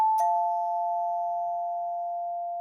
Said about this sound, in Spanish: Ha sonado el timbre